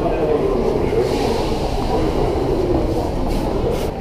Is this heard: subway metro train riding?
yes